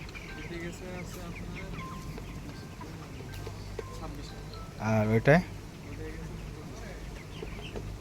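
Chickens cluck softly under a steady hum in a poultry farm shed, with a louder squawk near the middle; a person speaks briefly.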